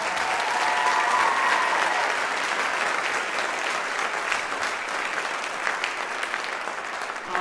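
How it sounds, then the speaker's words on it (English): An audience at a high school choral concert claps steadily for several seconds, a dense, even wash of applause that stays at a constant level throughout. "if we could show them our appreciation for the round of applause"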